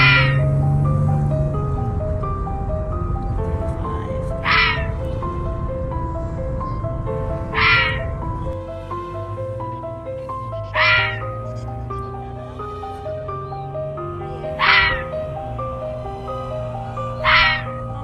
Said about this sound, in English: Here are some animal screams of the red fox.